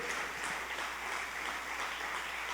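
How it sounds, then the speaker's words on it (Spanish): Congregation applauding during a church sermon, a soft, dense patter of clapping that stays even and fairly distant for the whole stretch. "Dale un fuerte aplauso al Señor"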